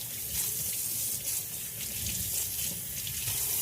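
Tap water runs steadily into a sink while fish are washed under it, a continuous close splashing hiss with small irregular spatters and no talking.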